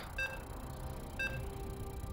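Two short, bright electronic beeps about a second apart sound over steady background noise, marking the countdown at the start of a video game match in a live-cast tournament.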